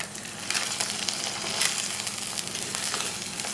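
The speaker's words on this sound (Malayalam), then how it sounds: "2 മുട്ട പൊട്ടിച്ച് വെക്കണം. ഒരു നുള്ളു ഉപ്പ് ചേർക്കാം. കുറച്ച് കുരുമുളക് പൊടി ചേർക്കാം. ഒന്ന് നമുക്ക് ചിക്കി മാറ്റി എടുക്കാം." Two eggs, seasoned with a pinch of salt and pepper, sizzle and fry in an oiled pan while being stirred and broken up, a steady close hiss with occasional scraping.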